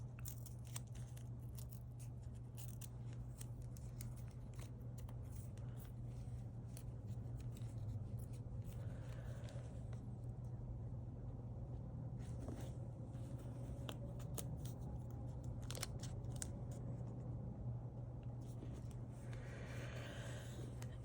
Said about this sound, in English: Maybe I want to cut that tape in half, yeah. Gonna rip the tape.